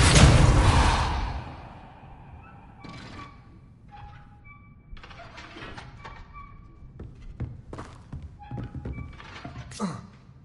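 Casting the Repulso spell in Hogwarts Legacy gives a loud, forceful whooshing blast that fades over two seconds. Softer magical chimes, taps and thumps from the game follow it.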